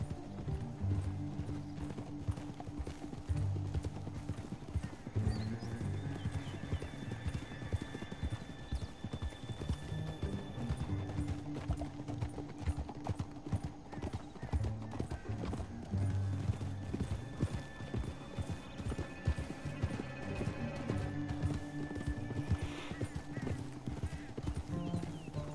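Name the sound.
horses galloping, from a video game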